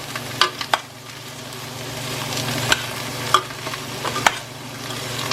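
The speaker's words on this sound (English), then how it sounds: "I'm going to stick all of the vegetables in at once. Add a stir again with my left hand." Vegetables frying in a pot for jjajangmyeon sizzle steadily and loudly nearby, broken by irregular clacks and scrapes as a utensil stirs them. No one speaks.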